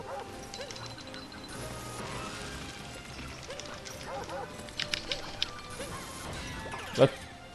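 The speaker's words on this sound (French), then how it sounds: "Ça, c'est le chien, si vous reconnaissez." Several short dog barks from a Super Mario Odyssey game. They come in a quick cluster near the end, the last one the loudest, over a steady bed of game music and mechanical effects.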